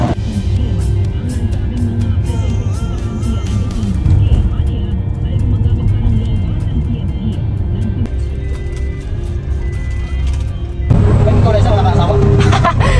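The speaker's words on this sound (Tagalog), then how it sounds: "we're gonna ride a tricycle" A motorized tricycle carries passengers through Puerto Princesa, its engine droning steadily with road rumble and occasional rattles, while voices talk over the ride throughout.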